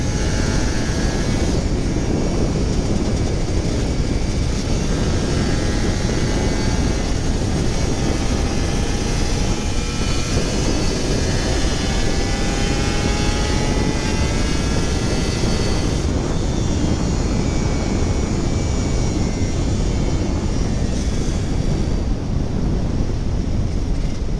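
A Kawasaki Ninja RR 150 two-stroke motorcycle on a morning ride, its engine droning loud and close with rising and falling revs as it accelerates through gears, buffeted by constant wind noise.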